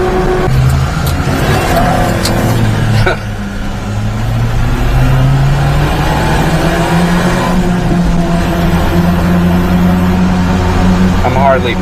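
A mini-truck engine fitted with an AMR300 supercharger revs loudly and steadily up close, its drone rising and falling, with people talking over it.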